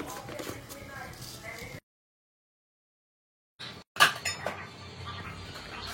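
Dried kitchen utensils and vessels are put away while tea boils on a gas stove in the evening, with clinks and clatters of metal dishes, a sharp clatter after a silent gap, and a voice speaking throughout.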